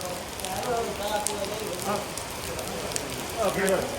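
Rain pours steadily outdoors on a Girnar hill trip, a dense hiss of drops on surfaces while people talk and shout underneath.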